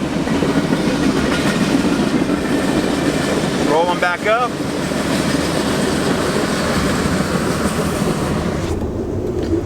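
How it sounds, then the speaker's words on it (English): A train rumbles past on the tracks, heard from inside a 2018 Ford F-150 diesel cab, with a steady heavy roar and clatter, a brief squeal in the middle, and a voice speaking briefly. "You can definitely hear that train now."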